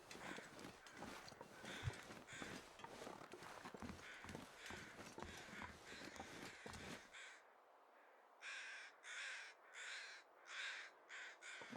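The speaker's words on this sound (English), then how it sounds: "What are those crows circling?" Crows caw in The Long Dark: crunching footsteps through snow come first, then a run of six or seven clear, raspy caws sounds out in the cold quiet.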